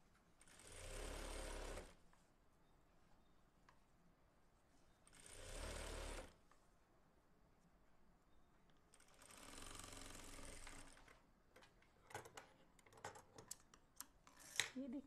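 A sewing machine stitches fabric for a baby's kaftan made from a saree pallu, running in three separate bursts of rapid, even whirring with quiet pauses between them and a few light clicks near the end.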